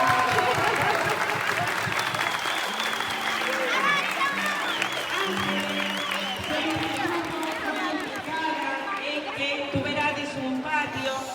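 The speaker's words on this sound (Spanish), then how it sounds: "Vamos a dar outro forte aplauso" An audience gives a strong round of applause, a steady wash of clapping under a voice speaking over it throughout.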